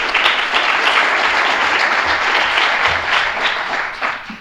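Audience at a Data Science with Python meetup applauds a speaker, a steady dense clapping from a roomful of people that holds for about four seconds before starting to taper off.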